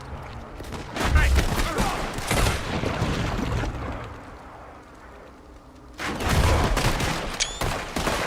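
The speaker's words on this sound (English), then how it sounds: "shooting our way out of here, boys!" Heavy gunfire crackles through a Red Dead Redemption 2 shootout, dense volleys of shots at close range that ease off mid-way and then surge back loud, with voices shouting over the fighting.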